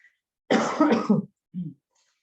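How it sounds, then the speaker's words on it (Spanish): Two or three harsh congested coughs from a woman close up, followed after a pause by a short softer cough or throat clear. "Me van a escuchar por ahí toser un poco"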